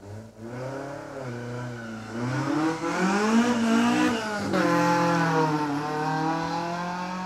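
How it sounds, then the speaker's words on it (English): A Toyota Celica race car accelerating hard up a hillclimb course, its engine rising in pitch through the gears with brief dips at each shift, loud and fairly close, with no talk. "Jason Sims Toyota Celica is now pushing hard up there"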